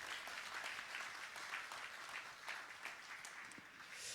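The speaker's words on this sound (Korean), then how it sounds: "우리 그 일을 우리를 쓰신 하나님께 감사의 박수 한번 올려드리면 좋겠습니다" A church congregation gives a round of thankful applause, with continuous, evenly dense clapping from many people at a quiet, distant level.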